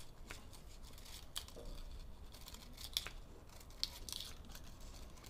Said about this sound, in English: pull out my scissors and cut these one by one